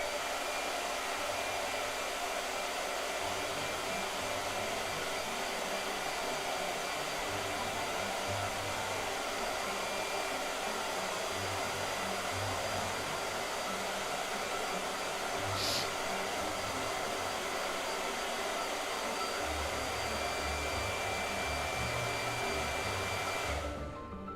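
A hair dryer blows continuously at close range, a loud, steady whooshing roar with a faint underlying motor hum that runs unbroken until it cuts off at the very end.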